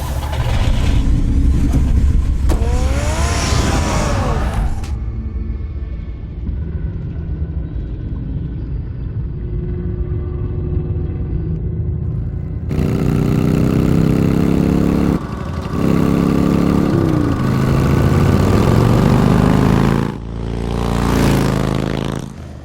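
Batman's car engine in the Batman Telltale video game, a deep rumbling engine with idling and revving passages, loud and close, broken by a quieter stretch before the roar returns.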